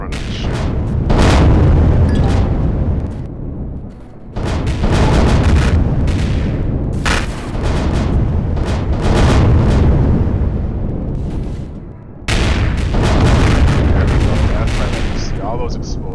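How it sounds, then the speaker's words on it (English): Rapid booming explosions tear through a spaceship in the video game Empyrion Galactic Survival, a dense, continuous barrage of loud blasts with short breaks. A voice talks now and then under the noise. "All those explosions."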